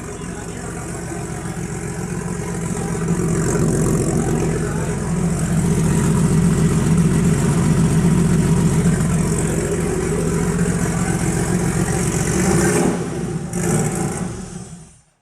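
A car fitted with a Bisimoto Pulse Chamber exhaust idles close by with a steady, deep, throbbing rumble that holds even for about thirteen seconds before cutting off abruptly.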